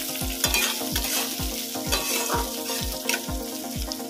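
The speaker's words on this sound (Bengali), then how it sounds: "এর মধ্যে দেব কুচিয়ে রাখা পেঁয়াজ। পেঁয়াজটাকে ভালো করে ভেজে নেব।" Chopped onion sizzles steadily in a pan while a spoon stirs it, scraping in a regular rhythm roughly twice a second, up close with no talk.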